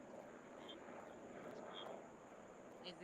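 Airplane flying overhead outdoors, a steady, faint, distant engine drone lasting the whole clip, with light wind noise and no speech.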